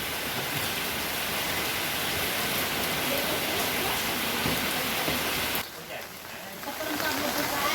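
Steady, heavy rain hisses close by, briefly dipping near the end before the downpour resumes; voices can be faintly heard beneath it.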